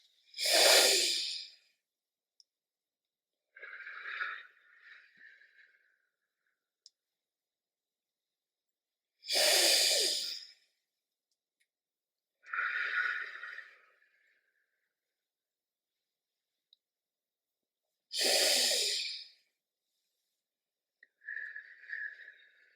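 Slow, deep guided breathing in a children's exercise repeats three times, each a loud inhale followed by a softer, longer exhale with long quiet gaps between, close and without speech.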